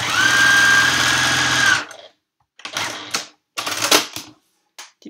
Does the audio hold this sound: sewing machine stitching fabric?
yes